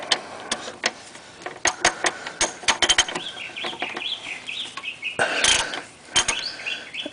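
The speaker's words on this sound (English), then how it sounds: "I have here my ratchet and it is equipped with a 15mm socket. That's what I will need to loosen this" Sharp ratchet clicks come in irregular bursts as a 15mm socket works loose the oil drain plug on a 2011-or-later Ford Mustang GT. They sound close and crisp, with a brief rustling pause near the middle.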